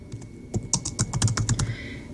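Someone types a class title on a computer keyboard, a quick run of about a dozen crisp, close key clicks in an uneven rhythm, with no talking over it.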